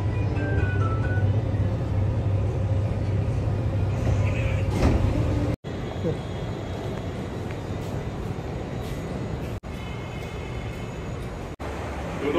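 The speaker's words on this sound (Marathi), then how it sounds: "वर्सोवावरून मी आता बसमधून जात आहे" Inside a moving bus from Versova, Mumbai: a loud, constant low engine rumble and road drone, interrupted by a few abrupt cuts.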